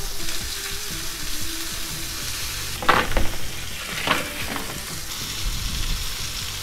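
Butter sizzling around rainbow trout frying in a pan outdoors at a campsite, a continuous close hiss with a couple of louder crackling bursts midway, without talk.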